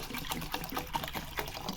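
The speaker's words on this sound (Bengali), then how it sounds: "তাহলে চলুন এটায় জল ঢেলে আগে ভিজিয়ে রাখি।" Water poured over sago pearls in a bowl to soak, a steady close trickling and splashing pour with small bubbly plinks, no talking.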